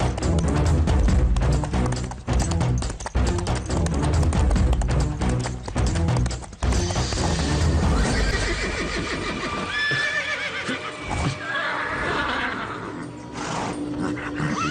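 A horse neighs and whinnies loudly over a dense, driving dramatic music score, followed by quieter wild animal roaring and hoof clip-clops in the second half.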